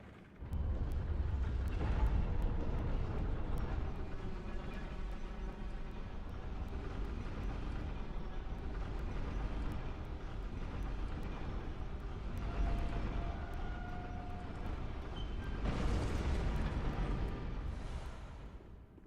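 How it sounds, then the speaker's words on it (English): A church cannon in the game Bloodborne fires lobbed shells that blast on impact. A long, low roaring rumble runs throughout, swelling into louder bursts near the start and again toward the end. "The curved trajectory creates an explosion upon impact."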